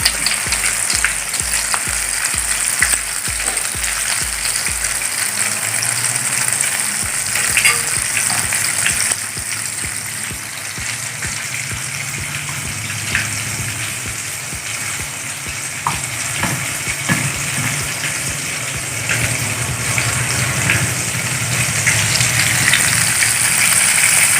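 Crispy KFC-style chicken deep-frying in hot oil gives a steady, close, loud sizzle and crackle, with occasional stirring and bubbling throughout.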